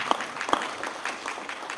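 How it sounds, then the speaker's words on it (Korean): Scattered, light applause from a seminar audience at an entrepreneurship camp, a thin patter of claps heard briefly and fairly faint. "격려의 박수 한번 부탁드립니다"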